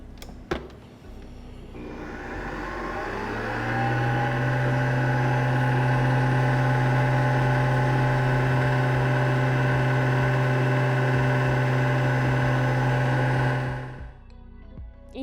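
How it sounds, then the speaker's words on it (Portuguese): An electric stand mixer beats French meringue as sugar is added, a loud steady whirring hum that starts up after a moment, runs evenly for about ten seconds and then winds down, with no talk. "com a batedeira ligada"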